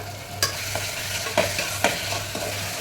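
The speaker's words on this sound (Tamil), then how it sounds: "நல்லா வதக்கிக்கலாம்" Tomatoes, green chilies, coriander and mint sizzle in a pan of oil, with a low constant fry and a few sharp spoon scrapes against the metal, close by.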